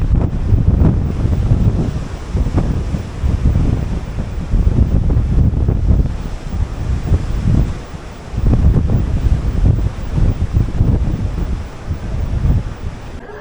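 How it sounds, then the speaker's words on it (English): Strong wind buffets the microphone over the surge of ocean waves on the deck of the Queen Mary 2 crossing the North Atlantic in November, a loud, steady roar with rising and falling gusts and no talking. "We've got some strong winds."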